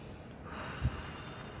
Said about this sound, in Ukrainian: А тепер давайте спробуємо просто видихати, але будемо робити сильний видих.